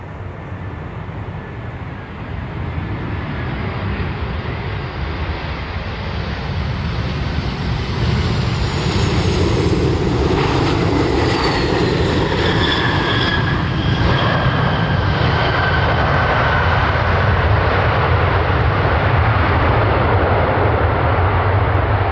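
A Frontier Airlines jet on landing approach at Cleveland airport, a loud steady engine roar that builds over several seconds and holds, with whining tones sweeping across it.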